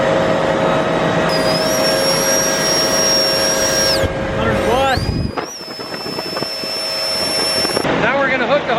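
A strip tiller air cart's fan runs with a loud steady whine and rushing air drone, its pitch shifting midway and briefly dipping, with someone talking over it.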